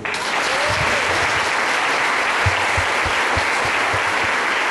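Church congregation clapping throughout a Brazilian worship service, steady dense applause filling the room from start to finish at close range.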